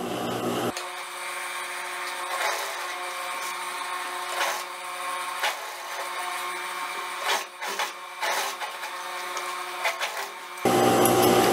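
A sewing machine stitching pocket fabric for a dress with a half-centimeter seam allowance, a steady high-pitched motor whir running nearly unbroken, close and fairly loud, with a few brief dips in speed.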